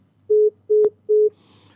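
A telephone line emits three short, evenly spaced electronic beeps after a radio call-in caller's connection drops, clear and alone.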